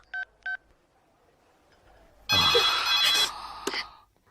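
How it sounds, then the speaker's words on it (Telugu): A telephone is dialed, with two short keypad tones followed after a pause by a loud burst of ringing and clattering that cuts off abruptly. "అన్నకు ఫోన్ చేసి ఇస్తాను"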